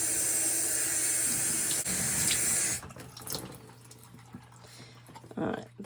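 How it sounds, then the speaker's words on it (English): Tap water runs steadily over a glass jar being rinsed at a sink, a loud continuous splash for nearly three seconds before the flow stops, leaving faint drips and handling sounds. "Give it a really good rinse."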